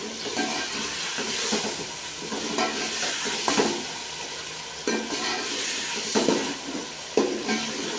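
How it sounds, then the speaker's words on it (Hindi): Peas going into hot oil in a frying pan for chicken biryani, a continuous loud sizzle with repeated scraping stirs and occasional sharp knocks of the spoon against the pan, no voices. "मटर डालिए, मटर है सख्त इसलिए पहले डालें"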